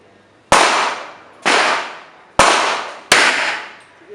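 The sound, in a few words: gunshots at a firing range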